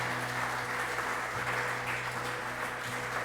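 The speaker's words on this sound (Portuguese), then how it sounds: "Vamos dar uma salva de palmas para o Senhor." A congregation applauds during a church service in Bragança Paulista, a steady wash of clapping over a sustained organ-like hum, with no voices standing out.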